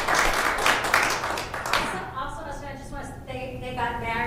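A live theatre audience at an anniversary event claps in a brief burst that fades after about two seconds, followed by people talking.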